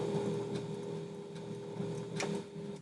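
A sewing machine running a zigzag stitch on the lining for cat-themed handpaws, a steady mechanical whir with faint rhythmic ticking, close and moderately loud, with no talking.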